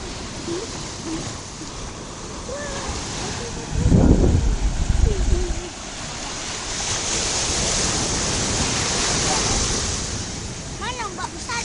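Indian Ocean surf on an open beach at Meulaboh, Aceh, a continuous wash of waves with a louder close surge in the middle, mixed with wind noise and people talking nearby.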